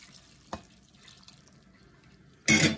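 Chicken stock, turkey stock or water poured into turkey stuffing, heard as a short, close splashing pour near the end after a quiet stretch with a single soft knock.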